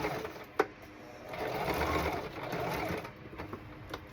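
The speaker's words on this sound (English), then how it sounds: "I know I'm backstitching too far." Household sewing machine stitching mock-up striped pants, a close rapid mechanical whir in a short run between quieter clicks and handling noises.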